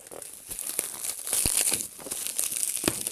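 Box packaging being opened by hand, with close crinkling and crumpling of plastic and paper in uneven bursts and a few sharp tearing rustles, no talking.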